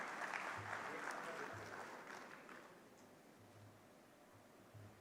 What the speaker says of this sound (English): give Kannan a big round of applause for setting this up